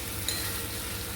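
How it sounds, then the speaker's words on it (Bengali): Spice paste sautéing in oil for a prawn dish, with a steady broadband sizzle and scraping stir strokes, plus a brief metallic clink of the utensil early on, close and continuous with no talking. "মশলাটা কষা হচ্ছে, দেখো"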